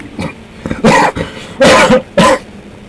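Several close, loud coughs in short bursts, about four in quick succession with brief gaps between them.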